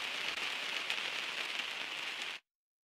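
Steady lo-fi rain atmosphere from the Nexus 3 lo-fi expansion, a dense, even hiss of falling rain on a surface that holds constant and then cuts off abruptly.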